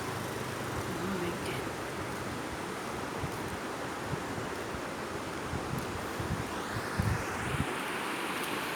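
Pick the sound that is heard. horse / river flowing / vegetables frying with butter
river flowing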